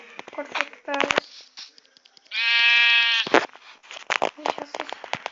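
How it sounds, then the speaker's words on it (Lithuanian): Several sheep bleats in the Minecraft video game, one long loud wavering bleat in the middle with shorter bleats around it, mixed with speech and game sounds. "Reikia avių, reikia žudyti avis."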